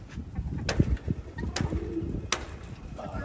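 Racing pigeons coo in soft, low repeated bursts close by, with a few sharper bird calls and clicks over steady outdoor background noise; no one speaks.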